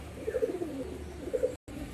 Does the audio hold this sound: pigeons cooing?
yes